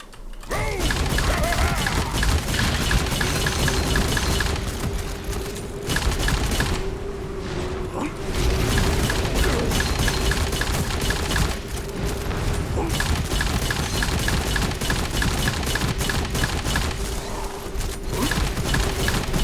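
The Frenzied Shark weapon in a video game fires continuous, dense automatic shots with mechanical clatter, sustained and loud for most of the stretch with only brief lulls.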